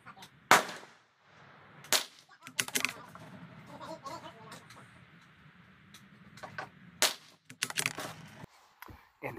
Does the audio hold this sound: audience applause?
no